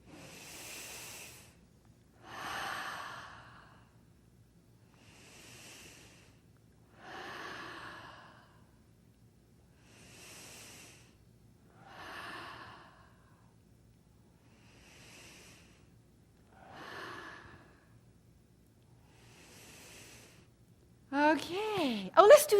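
Deep, slow breaths during an energy medicine breathing exercise, done with the thumbs held to the forehead. About nine long, airy inhales and exhales come in an even rhythm over quiet, and a louder voice-like sound enters at the end.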